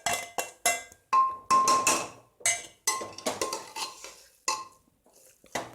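A spoon stirs cashews into ven pongal in a pot, making a string of close, sharp metallic clinks and scrapes in an irregular rhythm with no talk.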